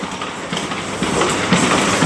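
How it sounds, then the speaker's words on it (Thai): A train rolls along the rails close by in Thailand, a loud steady rumble with rhythmic clacking of wheels over track joints. "คือเสียงรถไฟ เสียงรถไฟบานเฮา ชึกกระชัก ชึกกระชัก"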